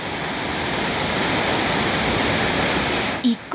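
A waterfall cascading into a river in the Chocó region, a dense continuous rushing roar of water that stays steady throughout before a brief dip and a thump at the very end.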